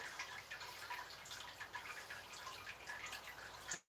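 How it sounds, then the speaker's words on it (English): Home-brew liquid trickles through during brewing, a faint, continuous close-up trickle with fine dripping and splashing detail that stops suddenly at the end. "It is trickling through."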